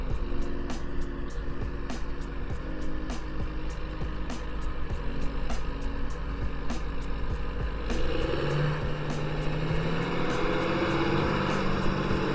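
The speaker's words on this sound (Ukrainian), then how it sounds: "Трактор на спарених колесах для того, щоб не переущільнювати ґрунт." A tractor fitted with dual wheels drives across a farm field, its engine a steady, even drone heard from a moderate distance with no talk.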